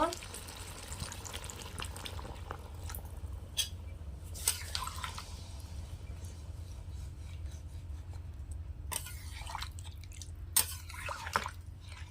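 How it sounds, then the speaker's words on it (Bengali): Warm water is poured into a simmering village-style country chicken curry. The noise is faint: soft drips and rubbing, then a short, broader splashing gush toward the end. "এবার ওপর থেকে উষ্ণ গরম জল দিয়ে দেব।"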